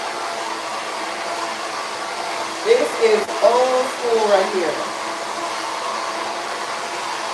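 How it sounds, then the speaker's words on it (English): A vintage Conair Yellowbird blow dryer runs with a steady, close whirring drone from start to finish, while a person speaks briefly over it midway. "Throwback blow dryer."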